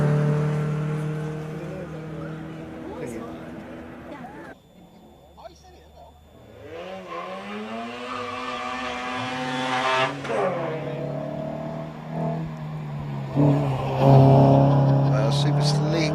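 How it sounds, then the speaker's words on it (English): Drift cars, including a Mark III Ford Escort, rev and whine at high pitch on track, rising and falling as they accelerate, with a commentator talking over the motor noise. "look out for those drift cars as they go up there"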